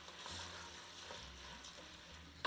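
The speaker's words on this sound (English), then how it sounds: "Give the rice a bit of a stir." Rice being stirred in a pot with oil for yellow coconut rice, a soft continuous sizzle and frying hiss with scraping stir strokes, close and steady, no talking.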